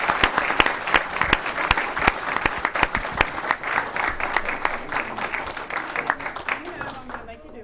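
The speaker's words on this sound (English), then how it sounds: "give them one more big round of applause" An audience at a Rotary ceremony applauds loudly and steadily, dense clapping with sharp individual claps standing out, fading toward the end.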